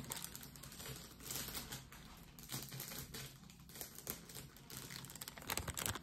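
A craft supply package is opened up close with soft crinkling and rustling of plastic and paper, quiet and continuous with small irregular crackles.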